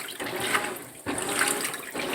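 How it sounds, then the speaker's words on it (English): A GE GTW465ASNWW top-load washer filling with water on its deep-fill setting, a steady rushing pour with brief dips, close and fairly loud, no talking. "This is now the washer on deep fill"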